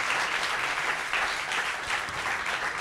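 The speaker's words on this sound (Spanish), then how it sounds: "aplauso para Carolina Perpetuo que la está partiendo en entregrados," A live-show audience applauds a guest, producing a fairly quiet but continuous patter of many hands clapping that rises and falls slightly over a few seconds.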